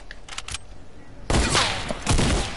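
Fortnite weapon fire: a short burst early, then a loud, close volley of heavy gunshots that bursts in and keeps going, with a second strong burst near the end.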